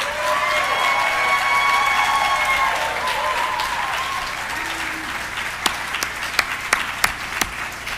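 An audience applauds at an award ceremony, a dense, loud wash of clapping that holds steady and then thins into a few scattered, distinct claps near the end, with faint talk and tones underneath.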